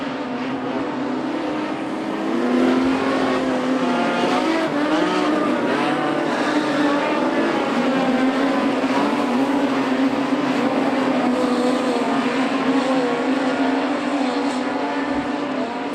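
Modified production race cars roar around Charlton Raceway in Queensland at night, a loud, continuous blend of several engines at steady high revs, holding a sustained drone for the whole stretch with no talk over it.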